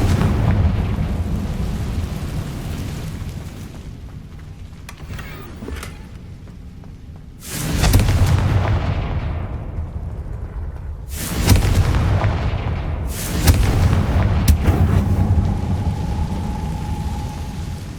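Confringo fire spell explosions in the video game Hogwarts Legacy: several loud booming blasts at irregular intervals over a rumbling game soundscape, each burst rising sharply then fading, with no talk.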